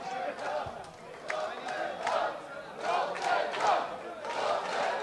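An indoor basketball crowd at a Dutch league game, Forward Lease Rotterdam against New Heroes Den Bosch, chanting and cheering together in rising, rhythmic swells, heard from some distance and steady throughout.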